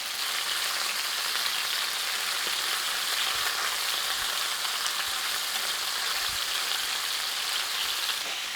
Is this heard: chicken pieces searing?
yes